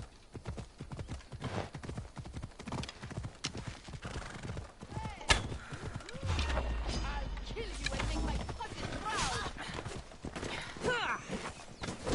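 Horse hooves clip-clop at a steady walking pace in the video game Assassin's Creed Odyssey, mixed with busy game effects and a heavy low thud partway through.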